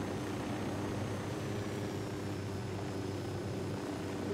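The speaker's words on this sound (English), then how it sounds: "Oh, it's that fucking helicopter." A helicopter in the video game Ghost Recon Wildlands drones with a steady, low rotor rumble that holds constant and moderately loud for the whole stretch, with no talk.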